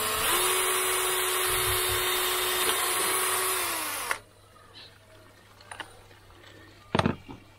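A power drill whines steadily for about four seconds drilling a hole in acrylic, then stops abruptly, followed by quiet handling noises and a sharp knock.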